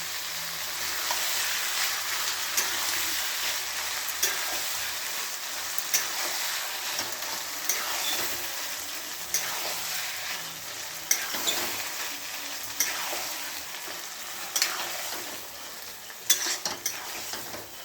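Vegetables and lentils frying in oil with eggs, a dense continuous sizzle close by, with intermittent scraping strokes as the mixture is stirred.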